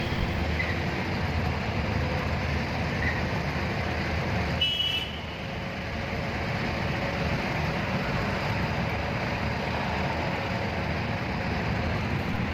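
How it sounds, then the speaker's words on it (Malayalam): Steady, loud truck engine rumble and road roar echoing inside a road tunnel in Maharashtra, with a brief dip in level midway through. "ഇന്ന് നമ്മൾ വണ്ടി ഓടിച്ചിട്ടാണ് ടണലിനടിയിലൂടെ പോകുന്നത്."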